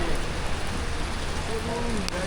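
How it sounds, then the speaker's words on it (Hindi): Heavy monsoon rain pours steadily during a train journey from Lahore to Sangla Hill, a dense, even hiss that holds at the same level throughout with no voices. "लो जी, बारिश तेज़ शुरू हो गई है।"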